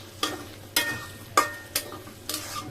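Shrimp are sautéed in a thick spice masala, heard as five sharp scraping strokes of a spatula against the pan over a quiet low sizzle, evenly spaced and close.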